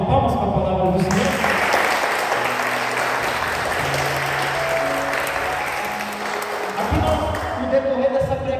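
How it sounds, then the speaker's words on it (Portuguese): A church congregation breaks into sustained applause that swells and holds for several seconds, with music tones sounding underneath and voices at the start and end. "Vamos dar uma salva de palmas para a palavra do Senhor?"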